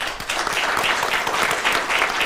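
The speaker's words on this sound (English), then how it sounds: "A big round of applause, please." An audience at a GFST conference event bursts into a dense, steady round of applause, many hands clapping together at moderate volume without pause.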